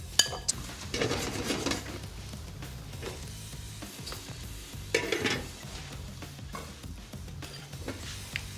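A cauliflower steak sizzles softly in a pan while being glazed, with a gentle frying hiss broken by occasional scrapes and clinks of utensil against the pan.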